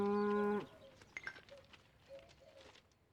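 A cow lets out one loud, drawn-out moo at the start, then quieter livestock shuffling and faint lowing from the herd follow in the background.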